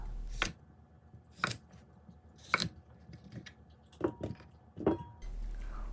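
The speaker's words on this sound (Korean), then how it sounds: "큰 오이는 4등분, 작은 오이는 3등분으로 취향에 맞게 썰어주세요." A knife cuts cucumbers into pieces on a board, giving about six quiet, separate crisp chops spaced roughly a second apart, close by with no talking.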